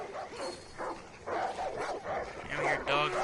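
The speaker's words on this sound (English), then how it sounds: "we hear dog barking" Dog barking in the Far Cry 5 video game, a few barks in the middle distance mixed with game voices talking over them.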